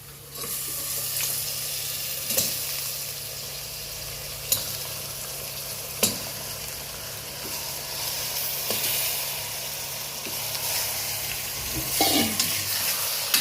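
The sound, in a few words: mutton frying with oil and onion in pan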